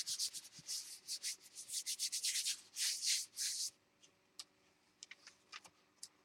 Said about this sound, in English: Close the page and just rub it like you're doing that.